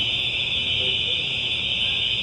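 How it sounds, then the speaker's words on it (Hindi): A building fire alarm sounds as a steady, loud, high-pitched electronic tone that holds without a break from start to end. "फायर अलार्म कह रही है बिल्डिंग में एक्टिवेट हो गया है"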